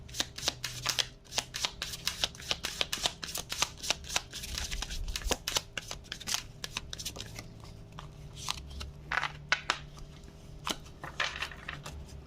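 Tarot cards are shuffled in repeated quick riffling bursts with sharp snapping flicks, close and crisp, continuing steadily with no talk over them.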